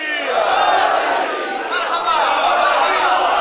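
A large crowd raises a loud, continuous chant of the Haidari slogan with hands raised, a dense mass of voices swelling steadily throughout at close range.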